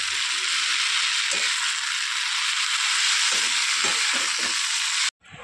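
Chow mein with Schezwan sauce sizzles steadily in a hot pan, a close, continuous frying hiss broken by several scraping, clicking stirring strokes, ending in a sudden cut.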